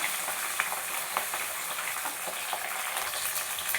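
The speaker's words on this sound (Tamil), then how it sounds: "அதோட உரிச்சு வச்ச பூண்டையும் சேர்க்குறேன் நல்லா கோல்டன் நிறமாக வதங்கட்டும்" Peeled garlic sautéing in hot oil until golden, with a steady dense sizzle and crackle throughout and a few sharper pops and stirring scrapes, close and alone.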